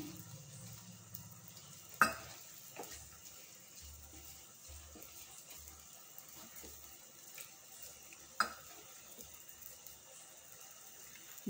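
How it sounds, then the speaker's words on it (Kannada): Spinach premix stirred with water in a pan makes faint wet swishing and scraping, with two sharper clinks of the utensil against the pan and quiet background hiss. "ಇದನ್ನು ಸ್ವಲ್ಪ ನೀರು ಹಾಕಿಬಿಟ್ಟು ಕಲಿಸ್ತೀನಿ."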